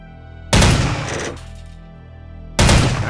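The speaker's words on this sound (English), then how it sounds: "The OICW also functions as a sniper rifle, 20 times magnification capabilities." Two loud, close gunshots from the OICW rifle used as a sniper rifle in Soldier of Fortune II: Double Helix, each a sharp blast with a lingering decaying tail, the second cut off.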